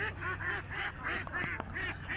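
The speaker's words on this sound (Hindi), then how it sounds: "इस तरीके से बत्तखें बढ़िया से खाती हैं गीला खाना।" Ducks on a farm eating wet feed mixed with medicine and water, giving repeated nasal quacks in a steady, busy chorus at close range, with no talk over them.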